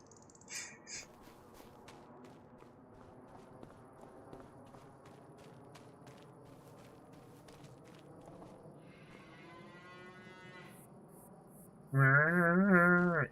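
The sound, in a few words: cows mooing in a farming video game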